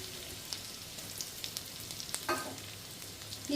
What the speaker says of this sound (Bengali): আদাটা আর কাঁচা লঙ্কাটা একটু ভাজা হয়ে যাক